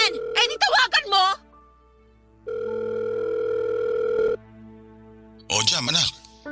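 A telephone gives a steady electronic ring tone for about two seconds between stretches of loud voices in a Filipino drama scene, with speech both before and after it.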